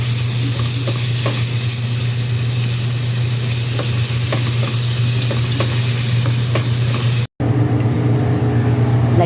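Ground meat frying in a pan, a steady loud sizzle with occasional scraping of stirring running throughout, cut by a brief dropout near the end.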